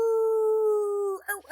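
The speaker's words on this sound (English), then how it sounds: "And you hear this howl from above you. This baying sound." A long, steady howl held on one pitch before it breaks into shorter wavering yelps, sounding like a dog or wolf baying from above.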